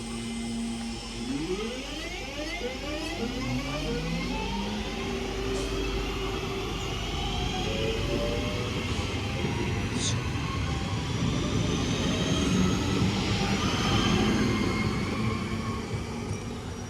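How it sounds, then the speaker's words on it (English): A three-coach Northern passenger train at Poynton station grinds and rumbles through at close range, a steady loud roar with rising wheel squeal and hum lasting throughout, while a station announcement voice speaks over the start. "This is the 11:28 Northern service to Manchester Piccadilly, calling at Bramall, Cheadlehume, Stockport and Manchester Piccadilly."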